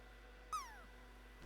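A single short cat meow, a descending tonal call that fades over about a third of a second, fairly faint over a steady low background hum, followed by a brief thump near the end.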